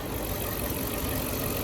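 A hot 5.7L V8 HEMI engine idles quietly at a steady low rumble, checked for the Hemi tick after an oil change, with no distinct ticking standing out.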